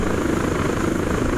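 An aircraft in the video game ARMA 3 flying in fog as it tips into a bank, with a loud, steady rotor-like chopping drone throughout.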